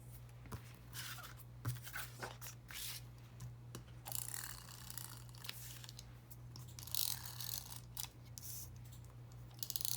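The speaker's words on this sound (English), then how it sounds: "I'm making sure that when I pop the tape on, I'm going as far to the edges as possible" A tape pen applying adhesive tape to a square Christmas card, giving soft crackly clicks, ratcheting ticks and brief tearing scratches scattered through a quiet indoor room, with no talking.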